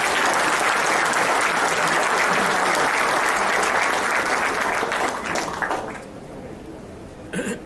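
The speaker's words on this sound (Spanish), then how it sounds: "Lo recibimos con un fuerte aplauso." An audience at a book launch on constitutional law claps in strong sustained applause. It fades away after about six seconds, followed by a brief final burst and a cough.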